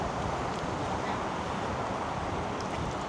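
Strong winter wind roars outdoors near a highway, a loud, steady broadband rush of wind buffeting and distant traffic noise with no pauses.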